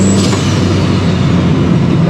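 An old Santodi blow-off valve on a tuned car engine of about 600 hp vents in a loud, close, sustained hiss with a faint descending whistle, a sharp metallic sound like a sword being drawn.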